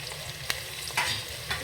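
Green chilli and ginger garlic paste frying in a pan for jackfruit biryani, a steady sizzle with a few quick stirring scrapes.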